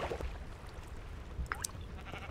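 Sheep bleating in the Minecraft video game, a few short bleats standing out over steady low game background noise.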